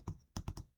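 Four quick keystrokes on a computer keyboard, close and soft: one tap, a brief pause, then three in rapid succession, with no talking.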